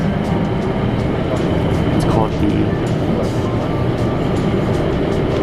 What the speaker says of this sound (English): So I just got on this nice train here